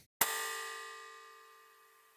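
A resampled toneless singing bowl pitched up a major second as a crash layer: one bright, hissy metallic hit that rings with shimmering upper partials and fades over about two seconds, faint and alone.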